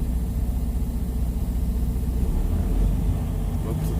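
A truck engine idles and rumbles low and steady as it pulls out of a parking spot, a continuous close drone with a slight swell near the end.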